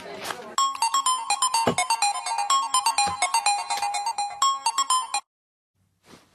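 A phone ringtone plays while a call is being placed, a loud, bright, rapidly repeating melodic chime for about five seconds that stops abruptly, followed by near silence.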